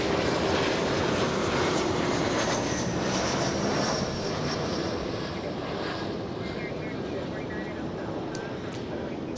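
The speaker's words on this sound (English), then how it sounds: "SkyWest 5658 flying in from Monterey, California. CRJ 700, a 55-minute flight from Monterey, California." A SkyWest CRJ 700 regional jet arriving at Los Angeles International Airport gives a steady, broad jet roar that fades slightly over the clip, with people talking underneath.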